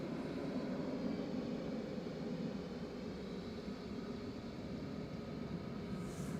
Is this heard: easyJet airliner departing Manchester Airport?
yes